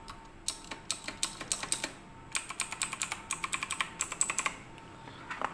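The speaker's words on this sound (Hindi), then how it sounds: "और गाइस इसका साउंड ज़रा सुनें, फुली मैकेनिकल का ज़रा।" Fingers typing on a fully mechanical Japanese-layout gaming keyboard, crisp clacking keystrokes in quick bursts separated by short pauses, close and fairly quiet.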